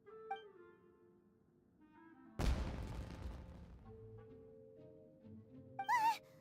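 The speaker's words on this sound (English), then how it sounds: "It sounded like fireworks." Fireworks in the video game Genshin Impact: a sudden loud broadband burst with a crackling tail that fades over a few seconds, then a brief whistling rise near the end.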